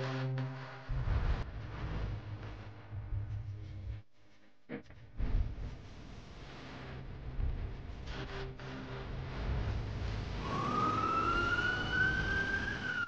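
An ambulance siren wails, its rising tone swelling in toward the end after a quiet, low background with a brief dropout.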